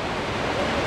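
Waterfall near Alesund, Norway, roaring in the rain as a steady, dense broadband rush of falling water, loud and continuous with no breaks.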